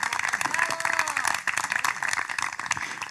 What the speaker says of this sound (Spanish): Otro aplauso para Alberto, por favor.